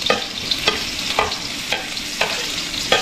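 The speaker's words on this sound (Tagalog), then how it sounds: "Tapos igisa na po natin yung ating bawang at sibuyas." Garlic and onion sauté in a pan for mung bean soup, a soft continuous sizzle broken by regular scraping stirs about every half second, close and without talk.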